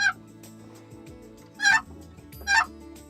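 Wild turkeys gobbling during a Memorial Day weekend turkey hunt in Delmarva, two loud, rattling gobbles about a second apart over a quiet outdoor background.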